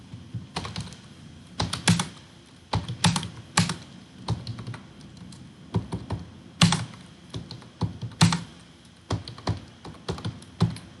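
Keys clack on a computer keyboard in quick bursts of typing separated by short pauses, close and fairly quiet, with no talking.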